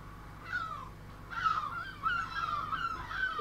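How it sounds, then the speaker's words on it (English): Seagulls squawking while raiding bins, several harsh, wavering cries in bursts that overlap toward the end, moderately loud over a low background hum. "Seagulls have gone mad. I think they're emptying the bins."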